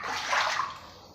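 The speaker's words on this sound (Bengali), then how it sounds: "এই দেখো সবাই আমাদের ঘরের ভেতরে জল হয়ে গেছে, পুরো ঘরে এসে গেল ঘরের মতন অনেক জল।" Floodwater sloshing and swirling inside a house, filling the rooms and kitchen, a steady close wash of moving water that swells briefly and then eases off, with no voices.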